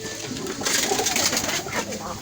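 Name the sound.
poultry bird cooing while brooding on eggs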